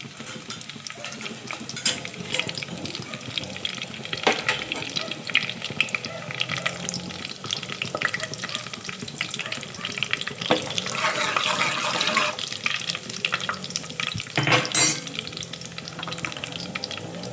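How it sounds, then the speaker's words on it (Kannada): Steady crackling sizzle of broken dried red chillies hitting hot tempering oil, with occasional stirring and metal clinks throughout, close and moderately loud, no voices. "ಒಣಮೆಣ್ಸಿನ್ಕಾಯಿ 2 ಹಾಕಿದ್ದೀನಲ್ಲ, ಮುರಿದಿಟ್ಕೊಂಡಿದ್ದೀನಿ, ಅದನ್ನು ಒಗ್ಗರಣೆಗೆ ಹಾಕ್ತಾಯಿದ್ದೀನಿ"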